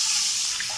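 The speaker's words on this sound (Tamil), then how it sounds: "2 கப் போல் தண்ணி சேர்த்துக்கலாம்." Water pours steadily into a pan while vermicelli kesari is being made, a brief, close, continuous splashing stream with no talking.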